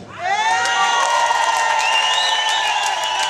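A church congregation shouts together at a prayer and healing service, with a loud sustained roar of many voices, whoops and some clapping, rising quickly and holding throughout.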